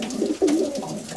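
A pigeon from a Polish racing loft coos nearby, a soft low rolling call that swells and wavers, with quiet background noise around it.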